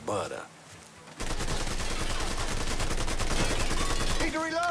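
Rapid automatic gunfire in a Mafia 3 shootout, a loud sustained burst of machine-gun rattle after a brief pause, with a voice shouting near the end.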